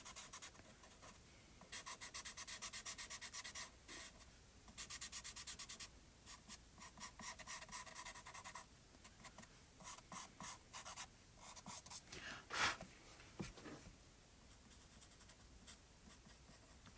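Colored pencil shaded on paper with a heavy hand, a close, dry scratching in steady bursts of strokes separated by short pauses, with no talking.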